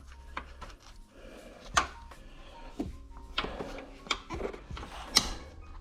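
A small box wrench works a fender bolt on a 1998 Subaru Impreza 2.5RS, giving faint irregular metallic clicks and scrapes with a few sharper clanks, close and quiet.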